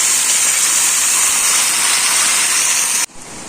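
Curry leaves and ground tomato paste for chicken gravy sizzle in a pan as a loud, continuous hiss that cuts off abruptly near the end.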